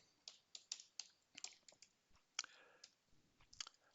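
Fingers type on a computer keyboard in a close, quiet room, producing a quick irregular run of crisp clicks and key taps with brief pauses between bursts.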